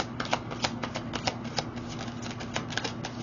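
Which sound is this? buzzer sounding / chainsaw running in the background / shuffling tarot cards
shuffling tarot cards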